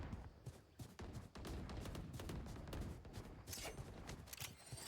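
Rapid automatic gunfire sprays in a Valorant match, dense bursts of close, loud shots rattling almost continuously with a few brief gaps.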